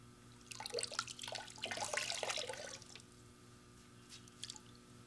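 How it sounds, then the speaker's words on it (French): A little warm water dribbles and drips nearby in a soft, wet splatter, a busier burst in the middle and a few scattered drops near the end, with a low steady hum underneath. "Un petit peu d'eau chaude."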